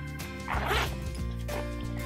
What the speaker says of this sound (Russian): Достаточно открыть эту молнию и найти